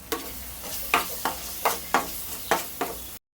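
A spoon stirs coriander and cumin powder into tomato rice curry in a pan, giving six or seven short scraping strokes at a steady rhythm over a low sizzle, close up with no talking.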